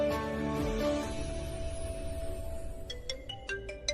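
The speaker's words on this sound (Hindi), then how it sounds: "फोन आ रहा है" A phone rings with a melodic electronic ringtone, a repeating tonal tune heard close up over faint background music, ending in a few short chiming notes.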